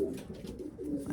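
Racing pigeons kept as breeding stock give a low, continuous cooing murmur, close by, steady and throaty in an enclosed loft.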